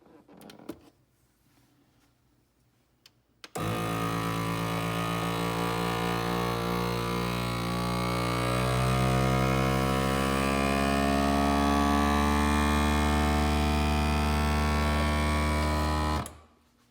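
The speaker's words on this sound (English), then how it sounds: "I'll be able to vacuum this and get all the air bubbles out" A Food Saver vacuum pump runs steadily while degassing resin in a chamber, kicking in abruptly after a few seconds of near silence and holding a loud, constant droning hum with a rising whine before cutting off sharply near the end.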